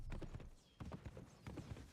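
Horse hooves clip-clop in the video game Lord of the Rings: Conquest, a steady galloping patter in repeated bursts, fairly soft and close, with no talking.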